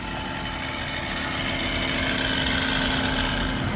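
A supercharged Dodge Charger with a 5.7 Hemi V8, Procharger, muffler delete, mid delete and Corsa Extreme rear exhaust idles close by with a dense, steady, loud rumble and no talking.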